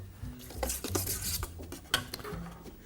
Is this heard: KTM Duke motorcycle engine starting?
no